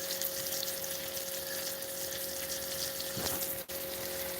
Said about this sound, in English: gotta pump water out of the back of the truck